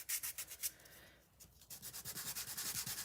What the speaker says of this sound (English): I'm just going to very lightly sand over that stenciling we did earlier with the gesso